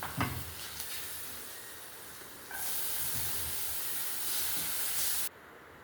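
Butter, garlic and onion frying in a pan, giving a steady close hiss that swells louder midway, holds, then drops off abruptly near the end; no voices.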